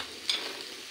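Peas and crushed half-boiled potato are stirred and fried in a pan for paneer samosa filling, giving a brief scrape of a ladle over soft sizzling, with one louder stir near the start of a short moment.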